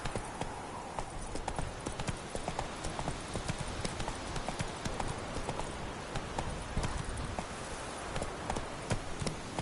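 Roach, the horse in The Witcher 3 video game, gallops in a fast, steady clip-clop of hooves close by, with no talking.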